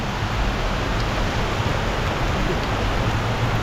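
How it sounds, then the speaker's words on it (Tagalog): Heavy rain pours near a mountain waterfall and pool, a dense, even hiss of falling water with no pauses, loud and continuous. "Literal na ulan guys."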